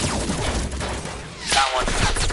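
Gunfire in the Fortnite video game, a rapid burst of shots that swells midway and continues, with faint talk beneath.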